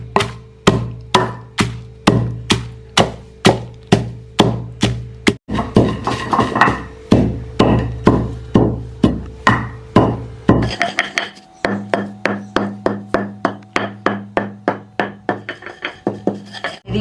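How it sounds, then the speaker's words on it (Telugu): Dried red chillies and salt pounded in a stone mortar for an old-style chutney: a steady run of close, sharp thuds, each strike distinct, with the rhythm quickening and growing lighter toward the end. "ఒట్టిమిరపకాయలు ఉప్పు వేసి దంచుతాండ."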